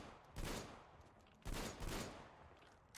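Gunfire in a video game streamed on Amazon Luna: two loud, dense bursts of rapid shots with a third smaller flurry between them, each fading into a rumbling tail.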